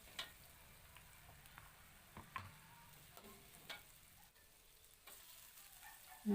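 Ingredients are stir-fried in a pan with a faint, soft sizzle in the background, and scattered light clicks and scrapes from stirring stand out at a distance.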